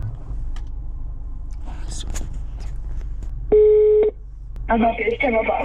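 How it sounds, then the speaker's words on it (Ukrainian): A taxi driver dials a customer's number on a mobile phone: a short burst of keypad beeps plays, then a line tone follows over low background noise. "Зараз давайте подзвонимо коротше, замовнику і спитаємо"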